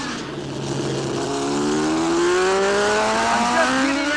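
A superbike in an AMA Superbike race at Laguna Seca screams along the straight, its engine note climbing steadily through the gears, loud and close as though from an onboard camera on the bike.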